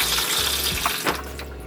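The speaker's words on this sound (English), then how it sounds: "If you hit the water flush," Running water from a toilet flush in a camper van bathroom, a steady rushing wash that fills the whole clip at close range, with no talking.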